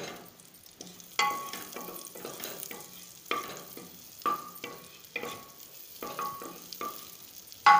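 Butter with a little refined oil heating and sizzling in a pan, a soft steady frying hiss broken by a series of sharp clinks and stirring scrapes at irregular intervals, no voices.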